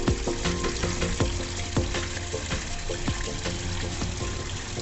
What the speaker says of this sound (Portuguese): além de um som agradável de uma fonte de água